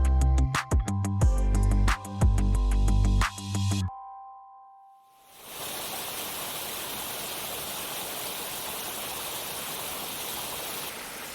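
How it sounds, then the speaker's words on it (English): A small stream flows beside a forest trail in Ice Gulch, its steady broadband rush filling the second half after a burst of musical tones and a brief silence. "A lot of little streams and whatnot."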